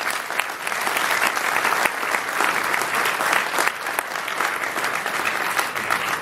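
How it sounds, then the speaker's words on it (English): Steady, dense applause from a large audience at a USC Trojans basketball event, clapping that continues evenly throughout with no talk over it. "So let's give them a round of applause."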